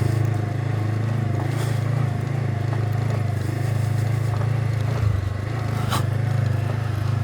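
A Honda CB500X motorcycle ridden off-road with the rider standing, a steady loud engine drone with wind rumble and occasional crunchy scrapes from the rough ground.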